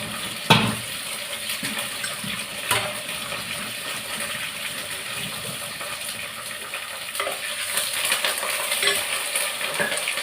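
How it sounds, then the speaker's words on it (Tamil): Cut onions hit hot oil with mustard seeds in a pan for a South Indian lemon rice lunch, giving a steady close sizzle and crackle with occasional stirring clinks. "இப்போ நான் கட் பண்ணி வச்சுருந்த வெங்காயத்தை போட்டுக்கிறேன்"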